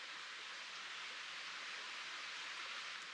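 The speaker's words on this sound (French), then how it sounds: "Le petit bruit du ruisseau." A small brook at a campsite babbles softly in a steady, even wash of water noise, faint and unbroken, with no voices.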